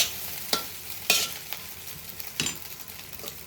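Chicken fried rice stir-fried over a high flame, a steady sizzle broken by a few sharp clanks and tosses of a spatula against the pan, close and moderately loud.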